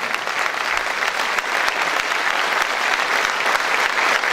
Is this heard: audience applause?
yes